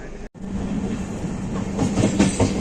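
Interior of an AC sleeper coach on an overnight train, a steady low rumble with rhythmic wheel clatter, heard continuously after a brief cut at the start.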